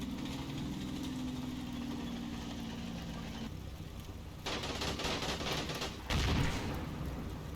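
World War II half-tracks in the Combat Mission video game: a low rumbling engine idle gives way to bursts of rapid machine-gun fire, with a heavier crack near the end, all fairly quiet.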